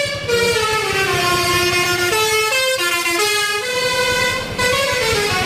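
A toy bus's loud electronic horn blares continuously, a jingly sequence of honks and tones over a buzzing motor rhythm, close up with no voices.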